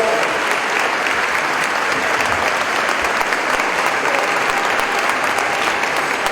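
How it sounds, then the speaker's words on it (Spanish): An audience at a Catholic gathering in Guadalajara claps loudly to welcome a speaker from France, a dense, sustained wash of applause filling the room from start to finish with no voices over it. "Un aplauso."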